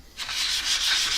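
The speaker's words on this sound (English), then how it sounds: "Just a really light sand just to make sure we don't have any sharp edges" Light hand sanding of an aluminum part to knock down sharp edges, a steady close scratchy rasp with a few back-and-forth strokes, alone with no talk.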